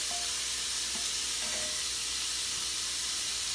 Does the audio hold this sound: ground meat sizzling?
yes